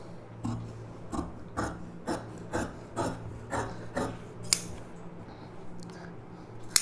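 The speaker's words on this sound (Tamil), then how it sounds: "அப்படியே வந்து இப்போ நம்ம ஸ்லீவ் கட் பண்ணிக்கலாம்." Scissors snipping through blouse sleeve fabric on a cutting table, a quiet regular series of about ten crisp cuts spaced roughly half a second apart, close and with no talk.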